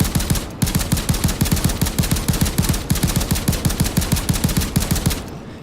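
Rapid, evenly spaced gunfire from the Little Friend rifle in the video game Payday 2: a loud, steady burst of shots with one brief pause near the start, then the firing stops abruptly at the end.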